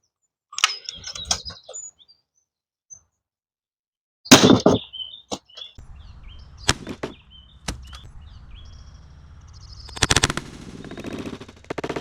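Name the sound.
Umarex HDS68 pistol shooting a steel core plastic slug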